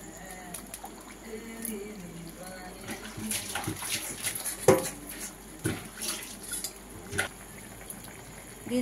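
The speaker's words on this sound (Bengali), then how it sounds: "ফুটুক আগে ঝোলটা।" Mustard fish curry gravy coming to a boil in a pan, an uneven bubbling with scattered sharp pops and splutters, heard close, with a voice talking over it in places.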